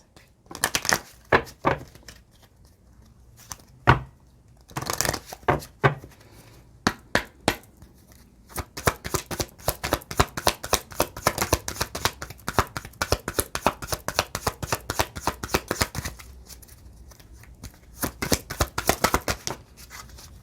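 Tarot cards are shuffled close up, with rapid riffling bursts and snaps that start sparse and then run in dense, continuous flurries, with a brief quiet stretch before a final flurry.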